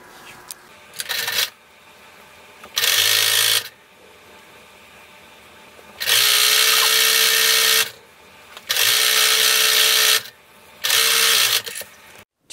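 A sewing machine stitches the seam of a curved robe hood in several loud bursts, each running about a second or two, with quiet pauses between them.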